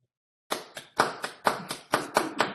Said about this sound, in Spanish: vamos a dar por concluida esta mesa con un fuerte aplauso para todos los participantes